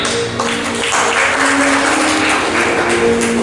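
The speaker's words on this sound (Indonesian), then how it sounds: "Tepuk tangan untuk kita semuanya." An audience of teachers, principals and school foundation staff applauds at a motivational talk, a steady, loud wash of clapping that holds throughout with no voices over it.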